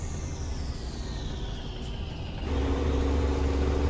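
A vehicle engine hums steadily in gear with a faint falling whine, then settles into a louder, deeper drone partway through, heard from inside with no talking.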